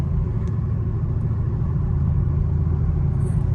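Straight-piped Chevrolet Camaro SS engine rumbling steadily at night, a loud, deep, continuous exhaust drone at cruising speed with no voices.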